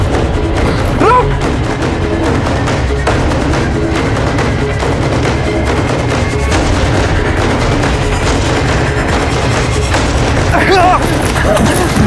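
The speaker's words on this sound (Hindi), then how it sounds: "अम्मा पे गोली चलाता है" Dense, chaotic bursts of gunfire and booms pound throughout amid shouting and music-like clutter, loud and close.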